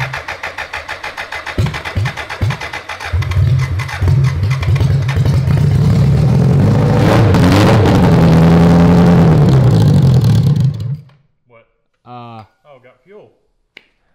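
A BMW 1000cc engine, long in cold storage and with a dead fuel pump, cranks a few times, catches and roars loudly for several seconds, then cuts out abruptly, followed by people talking.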